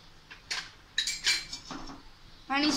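A metal spoon mixes garam masala, red chili powder and salt into gravy in a pan, making short clinks and scrapes that come in a few close, uneven strokes with no voices.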